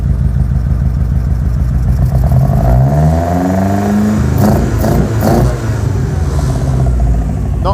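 A Locost Seven's two-stroke engine runs loud and lumpy on a dyno. It revs up and down with a rising whine and clattering, buzzy tone, and no voices are heard.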